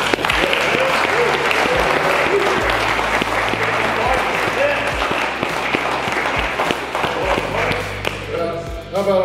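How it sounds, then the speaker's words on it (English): A crowd claps and cheers at the 2020 Shaw Classic strongman contest, with dense applause and a few loud individual claps up front. An announcer's voice carries over the clapping. "I want to do a special clap for Brian and Kari"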